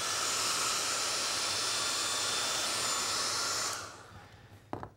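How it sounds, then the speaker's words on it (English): A small hair dryer blows steadily while drying base-coat paint on a clay bighorn sheep sculpture, a loud continuous whooshing hiss that cuts off near the end, followed by a brief faint clatter. "I'm going to use the little hair dryer here, dry it a little bit"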